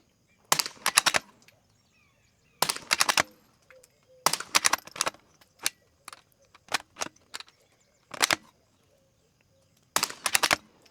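A Savage B22 Precision .22 rifle fires a string of shots toward a 10-shot group, heard as sharp, close cracks in short clustered bursts separated by pauses, with quieter mechanical clicks between them.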